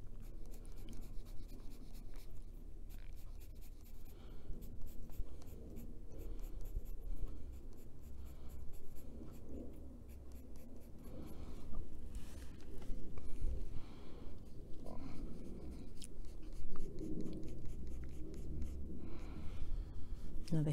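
A colored pencil shades on paper for a bunny coloring page with close, continuous scratchy strokes and short rhythmic scribbling bursts, with no speech.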